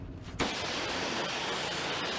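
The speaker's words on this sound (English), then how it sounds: "when you're using a power washer like this" A power washer blasts water onto an old car being detailed: a loud, steady hiss of spray bursts on abruptly after a short quiet moment and continues without a break, close and dominant.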